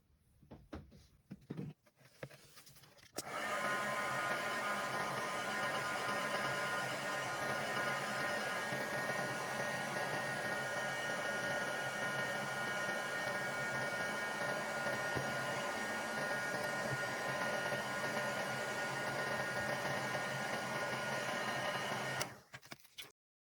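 Heat gun warming a metal curtain ring for an upcycled decoration, a steady loud whooshing blower hum switching on after a few seconds and running continuously for nearly twenty seconds before stopping.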